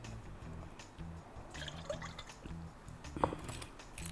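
Milk trickling from a container into crepe batter in a bowl, a faint, steady liquid pour with soft dribbling, quiet and close.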